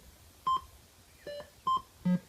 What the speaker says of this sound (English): Listen to that high fidelity beep sound.